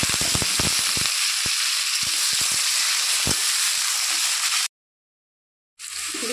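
Potatoes frying in hot oil, a loud close sizzle with a burst of sharp spattering pops at the start that eases into a steady hiss, then a sudden second of silence before the sizzle resumes.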